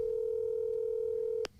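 A telephone tone plays over a speakerphone during a podcast call, one steady pure beep held for over a second, then cut off by a brief click.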